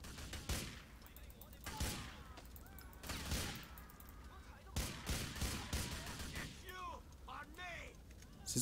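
Bursts of AK-47 automatic fire in GTA 4 crackle in short volleys across the scene, sharp repeated shots at moderate distance, with someone talking over them between bursts.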